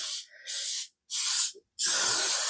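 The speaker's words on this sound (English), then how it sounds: "This is just coconut oil spray from, once again, Trader Joe's." Trader Joe's coconut oil cooking spray gives four sharp hissing bursts, close and loud, separated by short silences, with the final spray running longest.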